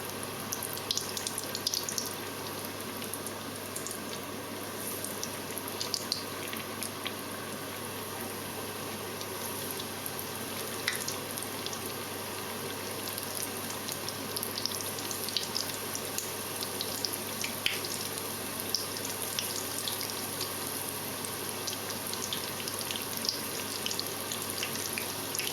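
Thinly sliced potato bhajis fry in a pan of oil, a steady faint sizzle and crackle running continuously with no talk.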